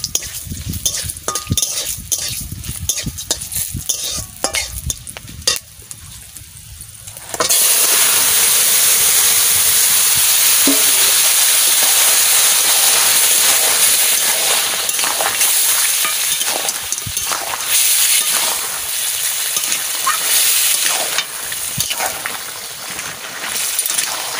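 Cumin, panch phoron, dried chilli and bay leaf hit hot oil for a bottle gourd curry: a few seconds of quiet clinks and stirring, then a sudden loud, continuous sizzle that keeps going, easing slightly near the end.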